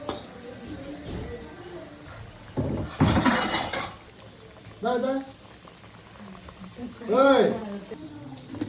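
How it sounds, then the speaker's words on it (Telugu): Samosas deep fry in hot oil with a bubbling, hissing sizzle that swells and fades, mixed with a person speaking nearby. "ఇలా డీప్ ఫ్రై చేసేసుకోవాలండి సమోసా."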